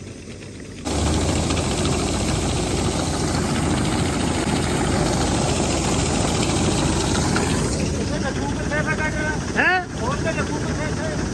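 A tractor engine runs steadily out in a farm field, a loud continuous low rumble with a brief louder surge near the end.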